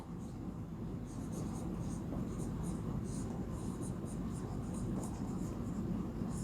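Chalk or marker scratching on a board during a Class VI Sanskrit lecture, a steady, continuous scraping with rhythmic stroke bursts in the high range over a constant low room hum, fairly close.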